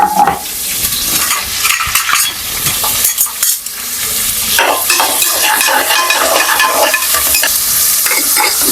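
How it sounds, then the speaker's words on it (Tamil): Chopped onion frying hard in a hot pan, a loud, close crackling sizzle broken by repeated scraping and stirring strokes, with no voices. "நெக்ஸ்ட்டு கட் பண்ணி வச்சுருக்க ஆனியனை போட்டுருவோம்"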